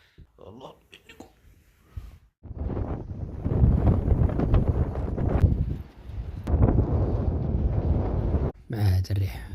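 Strong wind buffets the microphone during a bicycle trip through an oasis, roaring in loud sustained gusts with brief lulls, while a voice talks over it.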